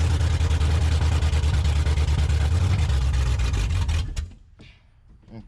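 An engine in gear runs steady and loud with a rough low throb, then falters and drops away to near quiet near the end as it stalls.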